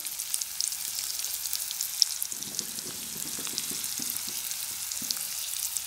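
Spices such as red chili powder being stirred into ginger slices frying in a pan for chole, a steady close sizzle with soft scraping stir strokes joining midway, no voices.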